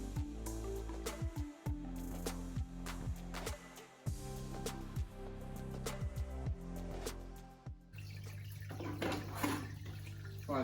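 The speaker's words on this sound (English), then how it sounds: "I'm now just going to drain out about 5 litres of water from the tank" Water draining from a tall aquarium tank, about five litres drawn out, a quiet steady trickle and gurgle with soft drips and small plastic knocks, close and faint.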